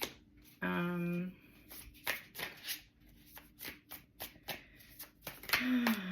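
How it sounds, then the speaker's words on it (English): Tarot cards are riffled and shuffled in repeated brisk bursts, close by, with a brief voice sound near the start and end. "bear with me while I shuffle"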